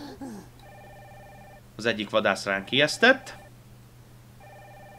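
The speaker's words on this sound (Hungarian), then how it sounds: "És hív minket V a telefonunkon, vagyis hát a Bluetooth headsetünkön" Incoming phone call ringing in the video game Chernaya Metka, a repeating electronic ring tone heard at the start and end, with someone talking loudly over the middle.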